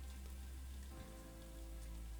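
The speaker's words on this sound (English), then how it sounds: "so it started raining here" Rain falling outdoors, a steady, faint patter on surfaces continuing throughout with no voices.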